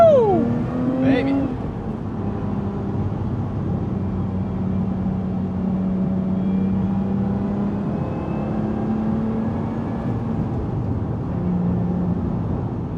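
Steady engine drone and road hum from a Lotus Emira sports car while driving, sounding close and continuous from the cabin, with a voice speaking briefly over it.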